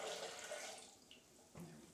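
Four cups of filtered water pour into a blender holding a cup of soaked, peeled almonds, a short faint splashing flow that tapers off, followed by a brief clunk.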